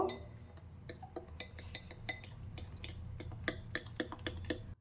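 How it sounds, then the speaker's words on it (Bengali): Mashed overripe banana batter stirred with semolina in a bowl, a steady run of sharp spoon clicks and scrapes against the bowl, fairly close and rhythmic, with no talking. "এবার এটাকে ভালোভাবে মিশিয়ে নেব"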